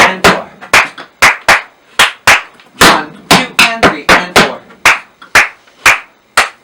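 Tap shoes strike a hard floor in a quick series of sharp, loud heel drops and scuffs during an intermediate-advanced tap class, some hits in tight pairs and others evenly spaced, each ringing briefly before the next.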